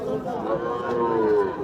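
A young heifer calf at the Chandaikona cattle market in Sirajganj gives a single drawn-out moo, close and clear, with faint crowd murmur behind it.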